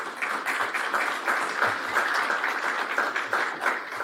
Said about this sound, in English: He can get applause and he will hear it.